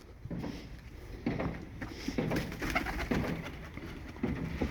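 Pigeons coo softly and repeatedly close by, low throaty calls over light rustling.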